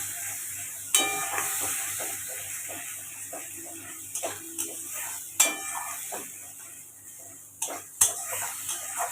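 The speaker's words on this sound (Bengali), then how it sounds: "এবার কিন্তু আমি ভালো করে মশলাটাকে কষিয়ে নেব।" Spice masala for butter chicken fries in a pan with a steady close hiss of sizzling oil. A spoon periodically scrapes and clinks against the metal, and no one speaks.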